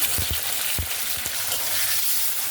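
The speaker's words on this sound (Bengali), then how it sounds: "পনিরটা এইভাবে একটুখানি নেড়ে নিয়ে হালকা করে একটু ফ্রাই করে নিয়ে তারপরে এটা আমি তুলে নেবো" Small cut paneer cubes frying in hot white oil, a loud continuous sizzle with a few low knocks from stirring early on.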